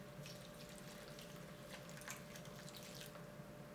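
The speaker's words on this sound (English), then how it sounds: "I'm just gonna put some water on top to water it in." Water poured onto houseplant soil in a nursery pot makes a steady, close trickle and splash that runs unbroken from start to finish.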